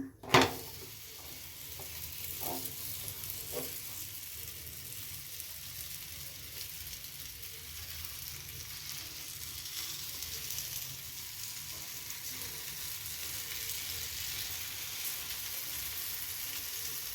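Akki rotti (rice flatbread, Mandya style) sizzles steadily on a hot pan over a gas stove, after a brief clatter at the start, with an even broadband hiss throughout and no talking.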